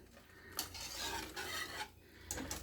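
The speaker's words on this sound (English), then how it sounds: "Giving my noodles a stir over here." Macaroni noodles are stirred in a pot for homemade mac and cheese, giving soft swishing and scraping strokes in a few uneven passes, close and fairly quiet, with light clinks of the utensil against the pot.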